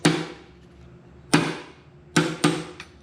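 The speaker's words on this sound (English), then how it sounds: "I'm going to start with a punch and flare out this rivet so it knows which way to go." A hammer strikes a punch to flare out a hollow rivet on a truck-minivan build, four sharp metallic hits with ringing decay, unevenly spaced and close up.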